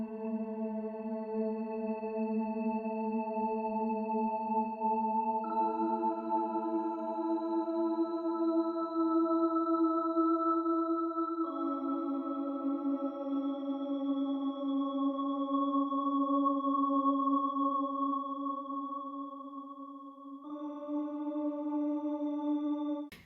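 A sweet Alchemy pad synth in Logic Pro X for a dreamy lofi track, washed in reverb and stereo delay, holds steady sustained chords that shift every few seconds, smooth and continuous with no voices.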